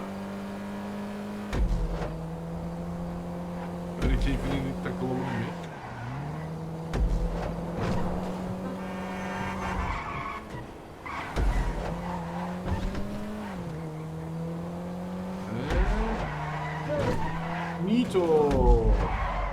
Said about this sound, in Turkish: acayip viraj alıyor araba ya.